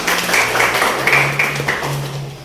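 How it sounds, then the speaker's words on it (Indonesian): A classroom of students claps hands together during a lesson, a dense, fairly close patter of applause that holds steady for a couple of seconds under a faint low hum. "Ya, tepuk tangan."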